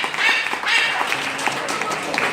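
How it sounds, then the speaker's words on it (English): Audience applause at an entertainment parrot show, a steady, fairly loud wash of many hands clapping that runs continuously for a couple of seconds. "Come on, give round of applause for Parrot."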